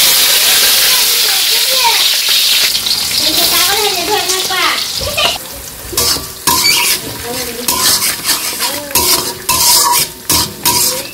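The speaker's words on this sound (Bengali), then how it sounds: "কড়াইয়ে তেল দিয়ে দিছি। এখন কাঁচামরিচ আর মাছগুলোর ডাল দিয়ে দিই।" Green chilies and fish hit hot oil in a wok, giving a loud sizzle and hiss, then clanking stirring strokes. A person talks over the first half of the frying.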